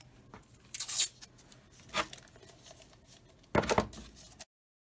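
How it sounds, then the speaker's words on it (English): Masking tape torn and pressed onto a ceramic mug, with three separate bursts of ripping and crinkling, the last loudest, between quieter handling sounds. "I'm going to tape it with my masking tape"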